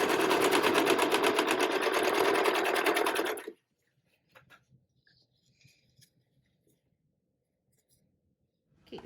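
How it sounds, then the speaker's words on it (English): A serger overlocks the edge of fabric for a dance set, whirring fast and loud for about three seconds before stopping abruptly, followed by quiet handling clicks and rustles. "And serge along the other edge."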